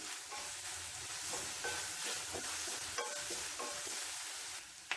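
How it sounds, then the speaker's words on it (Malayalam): Onions sauté in a pan with a soft continuous sizzle, interrupted by repeated light scraping and stirring strokes of a spatula; fairly quiet and close. "നല്ലതുപോലെ നമുക്ക് വഴറ്റിയെടുക്കണം"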